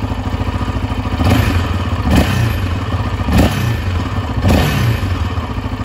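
A new 2022 Yamaha 700 Raptor quad engine runs close by with a loud, chugging single-cylinder beat, swelling in periodic revs about once a second over a steady throbbing idle.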